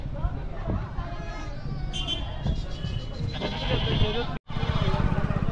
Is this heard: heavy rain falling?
no